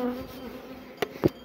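Honey bees buzz around a hive frame in a faint, steady hum, broken by two short, sharper buzzes near the end as bees pass close.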